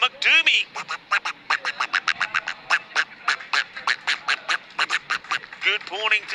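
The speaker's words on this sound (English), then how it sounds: "Derek the Duck comes out for the first time today. It is a golden duck" Duck quacking effect marking a golden duck dismissal in a T10 cricket match, a rapid run of loud nasal quacks repeated steadily for several seconds, close and prominent.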